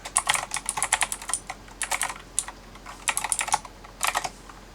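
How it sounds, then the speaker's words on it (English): Fingers type on a computer keyboard in quick, crisp bursts of key clicks separated by short pauses. The clacks are close and clear, with no voices. "I screwed up and did not finish typing, or didn't hit enter"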